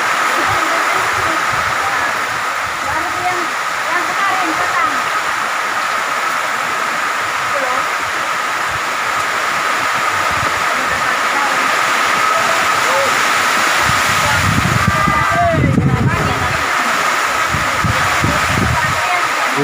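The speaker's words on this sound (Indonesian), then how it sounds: "Hujan kuat, hujan kuat." Heavy rain pours steadily in a dense, continuous hiss, with a brief louder rumble of wind or water near the end.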